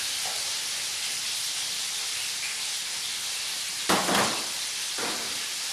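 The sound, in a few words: mushrooms added to a hot pan, sizzling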